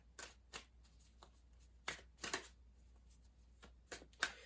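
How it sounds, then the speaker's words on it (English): A tarot card is drawn from the deck: soft, close papery slaps and flicks come in scattered short bursts, a few sharper snaps among them, over a quiet background with no talking. "I'm going to pull one more card for this."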